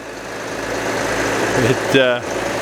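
An old compact track loader's engine idles steadily up close on a farm used for spreading manure, a continuous low rumble with a brief louder burst near the end.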